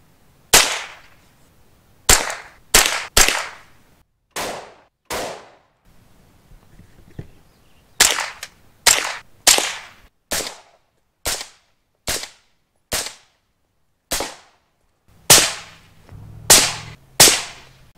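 Unsuppressed rifle shots from a 6.5, an AR and a Ruger 10/22 crack outdoors, about fourteen sharp reports in uneven groups with short ringing tails and quiet gaps between them.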